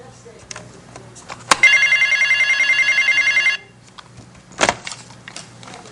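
A telephone bell rings in one sustained burst of rapid, even trills lasting about two seconds, sharp and close, with a click before it and a thump after amid quiet room noise.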